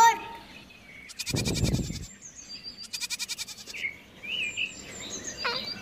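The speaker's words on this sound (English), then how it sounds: "G for goat" A goat bleats twice in long, wavering cries, close and loud, with a short pause between them and some higher chirpy sounds trailing after.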